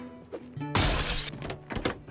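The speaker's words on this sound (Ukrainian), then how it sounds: "Ну давай розбиваю, мабуть, вікно." A window smashed in Project Zomboid: a loud burst of shattering glass, then a few scattered tinkling shards and knocks, with a quiet low tone underneath.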